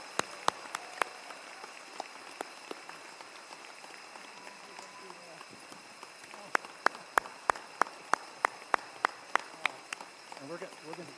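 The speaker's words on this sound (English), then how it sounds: "How about another round of applause for Ed?" A commencement crowd applauds in a loose, thinning patter, with crisp nearby claps, some in a steady rhythm, standing out toward the end.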